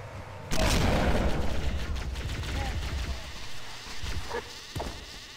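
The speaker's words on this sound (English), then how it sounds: "I think I just spawned an explosion." Sudden loud blast opens a burst of chaotic combat noise in a modded Halo match, with sharp crackling shots and a couple of distinct pops near the end under a dense, rumbling battle wash.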